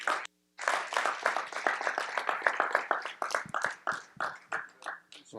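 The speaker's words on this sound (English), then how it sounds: "let's give them a round warm of applause and welcome" An audience claps warmly to welcome speakers at a conference's opening plenary session. After a brief silence, dense, steady applause rises and holds at full strength for several seconds before thinning into scattered final claps.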